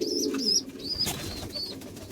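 Pigeons kept in pairs at a home loft cooing near at hand, with several repeated soft coos and calls rising and falling in a short, uneven sequence.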